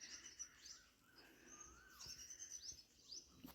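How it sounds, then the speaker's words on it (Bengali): Various birds call faintly at a forest resort near Shahapur, with scattered short chirps and whistled notes coming from a distance over quiet outdoor ambience. "মাঝে মাঝে পাখির ডাক নানা রকম শোনা যাচ্ছে।"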